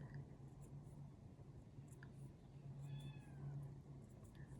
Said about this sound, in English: Oh, I hear the kitty.